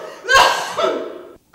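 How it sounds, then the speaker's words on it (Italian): A person gives a single deliberate cough as a stage sound effect during a theatre rehearsal: one loud, close, rough burst that trails off over about a second. "Colpo di tosse."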